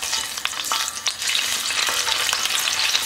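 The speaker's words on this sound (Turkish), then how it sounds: "Salça kokusunu çıkana kadar kavuracağım." Tomato paste sizzles and fries in a pot with steady crackling, punctuated by a few stirring scrapes, close and alone without any talk.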